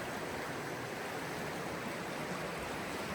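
A stream runs steadily with a constant broadband rush of water, even and unbroken, close by, with no voices.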